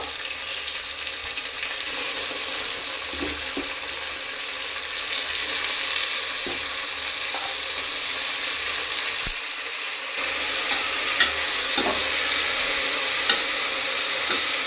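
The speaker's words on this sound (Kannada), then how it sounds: "ಸೊಲ್ಲಿಸ್ಕೊಂಡಿರೋ ಮೆಂತ್ಯ ಸೊಪ್ಪನ್ನು ಹಾಕ್ತಾಯಿದ್ದೀನಿ ಒಗ್ಗರಣೆಯಲ್ಲೇ ಬೇಯಬೇಕು" Fenugreek leaves fry in a tempering for a rice bath, with steady bright sizzling and scraping stirs that recur throughout, close and alone with no talk.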